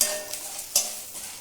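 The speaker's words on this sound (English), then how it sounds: "Now I am switching off the gas and just I am frying" Grated coconut and spices frying in a pan at home on a gas stove, a steady sizzle with brief crackling bursts, close and moderately loud with no talking.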